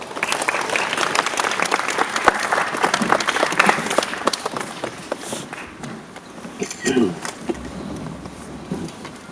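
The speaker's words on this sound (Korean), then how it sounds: "큰 박수로 맞이해주세요." Film-talk audience in a cinema clapping to welcome an actress, a burst of dense applause that thins into scattered claps, with footsteps and a voice speaking underneath.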